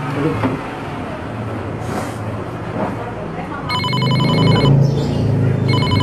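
A telephone rings in repeated electronic trills partway through, over a busy background of rumbling traffic and murmuring voices.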